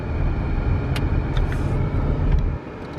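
A car rolls through a residential neighborhood with speed bumps, its steady low engine and road rumble close and continuous, with a few brief higher clicks or rattles before the drive noise drops off near the end.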